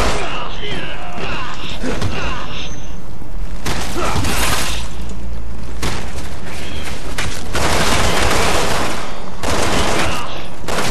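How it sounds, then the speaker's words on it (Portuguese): Dense, loud gunfire from the Resident Evil 6 video game, with bursts of machine gun fire mixed into a chaotic battle of shots and impacts, continuous across the whole stretch. "Nossa, tá tendo tipo uma metralhadora"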